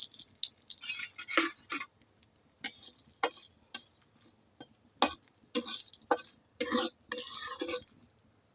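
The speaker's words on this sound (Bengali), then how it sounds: "শুকনো লঙ্কা তেজপাতা ভাজা হয়ে গেছে" Two bay leaves, a dried red chili and a spoonful of cumin fry in oil left over from frying pointed gourd, with a soft sizzle under repeated sharp scraping strokes of a spoon stirring in the pan.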